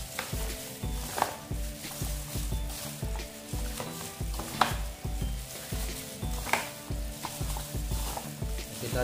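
Marinated chicken wings sizzle and are stirred in a frying pan, a steady crackling texture broken by regular scrapes, beneath a rhythmic background of music with a repeating bass beat.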